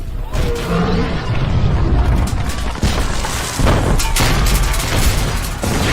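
Heavy booming explosions and rumbling blasts in the Ukrainian film You Are Space follow one another in a dense, loud barrage with sharp bursts throughout.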